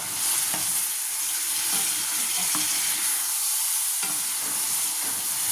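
Green peas poured with a little water into hot tempering, a loud steady hissing sizzle that fills the clip, with faint stirring scrapes and a few soft ticks, nobody speaking.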